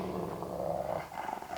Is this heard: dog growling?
yes